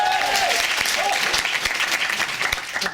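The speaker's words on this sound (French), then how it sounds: "j'aimerais qu'on applaudisse très très fort Monsieur Ancel et Démosthène" Audience at a French business-school speaking-contest final applauds loudly and continuously, a dense wash of clapping filling the whole stretch, with a voice faintly audible at the start.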